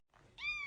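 A house cat gives a single short, rising meow, close and fairly clear, after a moment of near silence.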